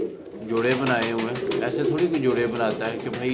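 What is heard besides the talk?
pigeons cooing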